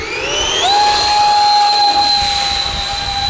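Electric ducted fan on a model jet whining at full power during a hand launch, a steady loud high-pitched tone that rises sharply in pitch near the start, then holds with airy hiss.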